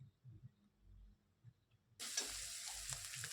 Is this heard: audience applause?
no